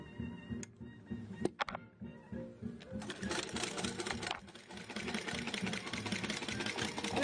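An antique hand-cranked sewing machine stitching close by, a few clicks and clunks first, then a steady whirring mechanical chatter that runs continuously.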